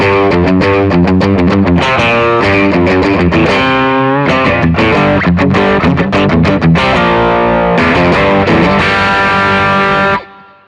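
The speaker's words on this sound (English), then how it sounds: "that's the distortion channel, but with my volume down on my guitar," An electric guitar plays through the distortion channel of a Friedman BE-100 amplifier with the guitar volume turned up, giving loud, saturated chords and riffs that ring out and then stop abruptly near the end.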